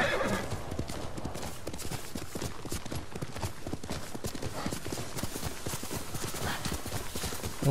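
A horse gallops with rapid, steady hoofbeats and gives a neigh near the start in Ghost of Tsushima, the clatter dense and continuous throughout, near and fairly loud.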